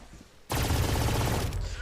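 Rapid automatic gunfire in Valorant, shooting through walls as a dense, continuous burst that starts abruptly and rattles on loud and close for over a second, with faint game ambience before it.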